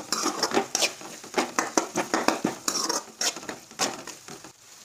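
Chopped onion being sautéed over low heat in a pan for pav bhaji, with a spatula scraping and clattering steadily against the metal in quick, uneven strokes, close and moderately loud, with no talking.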